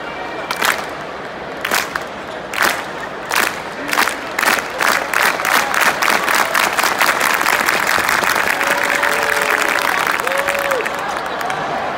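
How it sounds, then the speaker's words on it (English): A crowd at a Pelicans NBA game in New Orleans claps in unison with sharp, evenly spaced beats, then the clapping swells into a loud, sustained roar of cheering and applause throughout the arena. "Clap."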